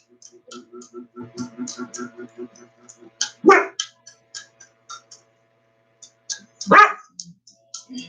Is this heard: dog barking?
yes